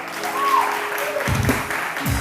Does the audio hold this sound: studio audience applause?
yes